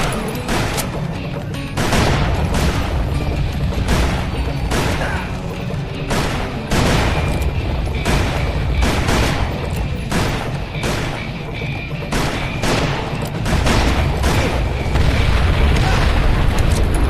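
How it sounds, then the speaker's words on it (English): Dynamite explosions and gunfire in the western shooter Call of Juarez: Bound in Blood, with loud booming blasts and bursts of shots repeating steadily through a dense, continuous battle. "Dynamite! They're throwing it from up there!"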